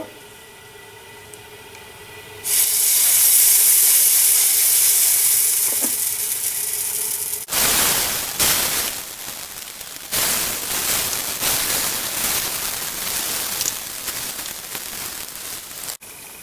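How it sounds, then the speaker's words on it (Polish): Chickpea pancake batter sizzles and crackles in a little oil in a hot pan, a steady loud frying hiss that jumps up suddenly, then continues with occasional pops and clatters. "Smażymy na rozgrzanej patelni z odrobiną oleju"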